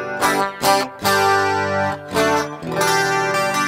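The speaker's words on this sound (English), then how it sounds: "It almost sounds like direct guitar with compression and then chorus and reverb." An electric guitar played through a Rockman headphone amp with heavy compression, chorus and reverb, several sustained chords with a shimmering, smooth studio-ready tone, loud and close with brief gaps between strums.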